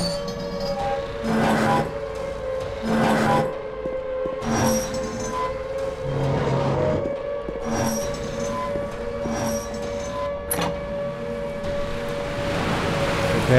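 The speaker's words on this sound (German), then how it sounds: "Ich höre die Sirenen." Wailing sirens in the Silent Hill 2 video game sound over a steady, droning hum, with the sustained tone holding throughout while louder bursts and swells rise and fall around it.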